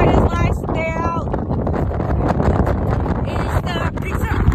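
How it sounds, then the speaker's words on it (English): Strong gusting wind buffets the microphone on a golf outing, a loud, rough, continuous rumble with a voice speaking faintly underneath. "I'm gusting 40 right now. I don't even know if you can hear me."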